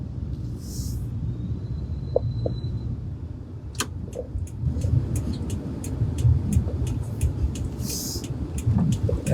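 A bus passes on a road, heard as a low engine rumble that builds and stays steady, with a few sharp clicks and rattles nearby and no talk.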